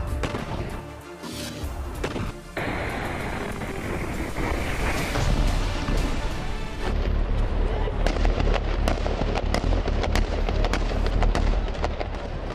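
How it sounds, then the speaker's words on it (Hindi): Gunfire from IDF soldiers surrounding a fighter in a stone building during a clash in Hebron: sharp, dense cracks of repeated shots ring out loud and near, rising in intensity over wind noise and rumble. "उसे घेरने के लिए 1 दर्जन से ज्यादा आईडीएफ सोल्जर्स ने फायरिंग की।"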